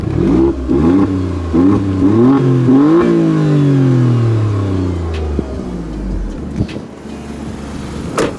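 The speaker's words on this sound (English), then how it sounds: "So you can hear the valves open after a certain RPM, but if you put it into race, the dash changes." An Alfa Romeo Stelvio Quadrifoglio engine revs hard with its exhaust valves open, several quick stepped blips climbing in pitch, then a long falling rev-down and crackle, loud and close with no talk.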